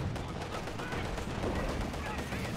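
Gunfire from an MG42 machine gun in a World War II strategy game match, a dense continuous burst of shots mixed with other battle noise under commentary.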